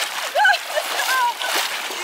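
Water splashes and sloshes as waves are churned up in a backyard swimming pool, with short bursts of splatter over a steady watery wash while children shout and chatter nearby.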